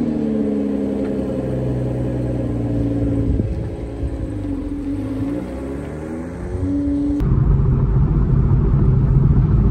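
A 2024 Toyota Supra with a manual gearbox drives on a canyon road, its engine droning and rising in pitch through the gears, with a shift and a louder pull near the end, steady and close.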